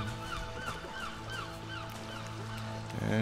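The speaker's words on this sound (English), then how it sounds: "There's the seagully seagulls." Seagulls in the video game RIME cry in a cluster of repeated honking calls over a low steady hum, with waves faintly beneath.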